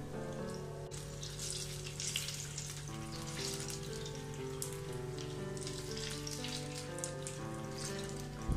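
Banana fritters (pazham pori) fry in hot oil with a steady, bright sizzle and crackle throughout, with a continuous low hum underneath and no talking.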